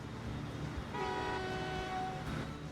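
A small metro train in Transport Fever 2 rolls in with a steady low rumble, then sounds a sustained tonal horn for about a second before the tone fades.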